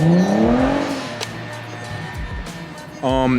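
An Audi B5 S4's engine revs up loudly at the start, then fades into a lower drone, and near the end a second sharp rev bursts in close by.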